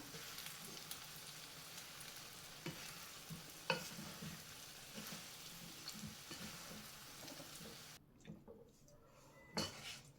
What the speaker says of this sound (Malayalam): എന്നിട്ട് നമുക്കിത് ഒന്ന് ഇളക്കി എല്ലാം കൂടെ ഒന്ന് മിക്സ് ചെയ്തെടുക്കാം